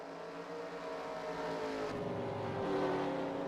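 Several race car engines in a sim racing video game, a steady layered drone of idling and rolling motors with a slow rise in pitch and loudness as the pack moves off for the pace lap.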